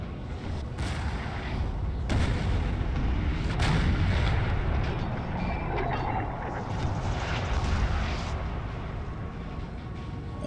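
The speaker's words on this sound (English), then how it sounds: "That's 8 12-pounder cannons." Batteries of 12-pounder cannons in the Napoleon Total War video game fire repeatedly, with sharp booming reports at irregular intervals over a continuous low rumble of battle.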